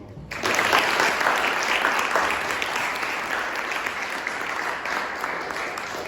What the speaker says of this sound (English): please join me in giving a round of applause and appreciation